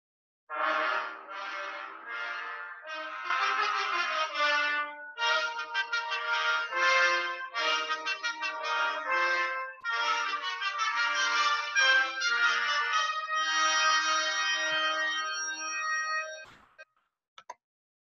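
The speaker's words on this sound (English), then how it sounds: "Together, the brass section sounds like this." A full brass section of trumpets, horns and lower brass plays together in a rich, loud chordal passage of sustained and rhythmic notes, swelling and then fading at the end.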